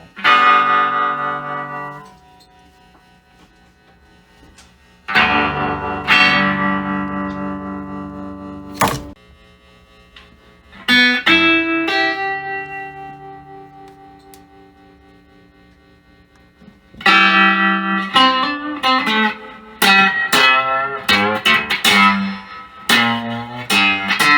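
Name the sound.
electric guitar tremolo effect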